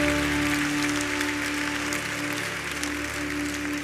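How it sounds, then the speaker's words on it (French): A church congregation applauds in praise of Jesus, a dense, sustained wash of clapping filling the space, with a steady tone droning underneath. "Acclame Jésus"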